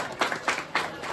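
Brief applause from an audience at a Lions Club of Vapi Greater event, a few distinct rhythmic claps rising and fading over about a second, fairly faint.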